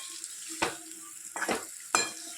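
Tempering crackling in hot peanut oil, sharp sizzling bursts flaring up three times over a steady frying hiss, close and fairly loud with stirring in between.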